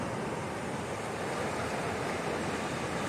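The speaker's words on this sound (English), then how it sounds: "And this is the Nolichucky River up close." The Nolichucky River rushes past up close in the Appalachian mountains, a steady, dense broadband roar of flowing water with no pauses or other sounds.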